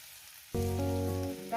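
Oil is poured into a hot pan to fry pumpkin, and it erupts into a sudden loud sizzle after a quiet moment. The sizzle then keeps crackling steadily, close up, with no talking.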